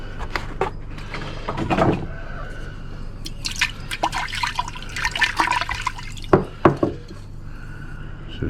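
Water pours and splashes while CPU pieces are rinsed clean, with irregular gushes, drips and clatters close by, rising in several louder bursts.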